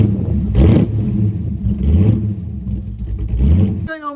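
A Baby Austin car with a modified exhaust revs its engine in several rising bursts, loud and close, with a rough, throaty rumble and some clatter. A brief voice cuts in at the end.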